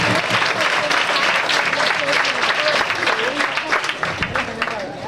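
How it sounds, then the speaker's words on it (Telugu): Congregation at a Holy Communion church service in Balusupadu, India, applauding loudly, a dense burst of many hands clapping that tapers off toward the end, with voices mixed in. "గట్టి చప్పట్లు చేసి సభని సాగుపోయి."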